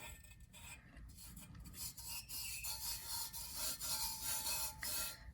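A burnishing tool rubs vinyl onto a coffee mug with steady, scraping strokes, close and fairly quiet, continuing throughout without any talking.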